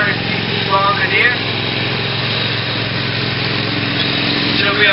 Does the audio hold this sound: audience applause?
no